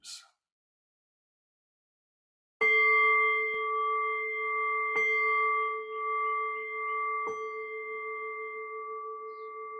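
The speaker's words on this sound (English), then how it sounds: "I'll cue that by ringing the bell 3 times" Meditation bell struck three times at spaced intervals, each strike a clear ringing tone that sustains and slowly fades, heard alone after a brief sound and silence.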